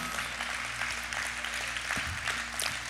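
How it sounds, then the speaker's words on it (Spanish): A church congregation applauds its pastor, a continuous wash of clapping over a steady low hum of music or room tone, with no clear speech. "le quiero dar un fuerte aplauso a nuestro pastor general, Pastor Marco García y su esposa Lisa"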